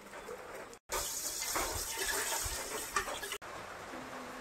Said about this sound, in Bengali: এখন কলের জল দেবো।